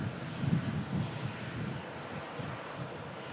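A Jet2.com Boeing 737-800 taxiing out for departure to Naples gives a steady, distant engine rumble mixed with wind noise, fairly faint and continuous with no talk.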